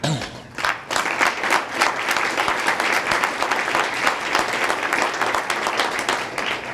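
A luncheon audience at a charitable foundation event gives a warm round of applause for two high school guests, dense steady clapping filling the room throughout, with a faint murmur of voices underneath.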